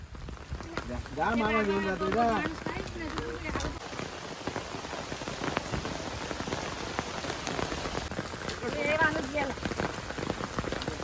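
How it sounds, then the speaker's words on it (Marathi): Steady rain patters on surfaces throughout, dense and close, over rice paddy fields during planting in Karjat, with a voice calling out briefly near the start and again toward the end. "पाणी पाऊस थांबायला पाहिजे ग"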